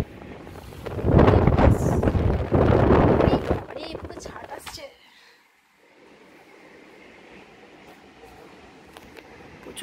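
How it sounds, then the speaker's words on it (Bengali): Strong wind and rain hit a tightly shut flat window in a loud gusty roar that swells for several seconds, then drops to a faint steady hiss, with a person talking over it. "জানলাই খোলা যাচ্ছে না, এত হাওয়া দিচ্ছে, পুরো টাইট করে দিয়েছে"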